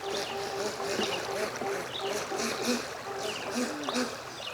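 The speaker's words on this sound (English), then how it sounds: "This little boat handles the rapids pretty good." A Pro Boat Jet Jam RC jet boat with jet drive runs up small stream rapids over rocks, its motor whine steady beneath rushing, splashing water, with a person talking over it.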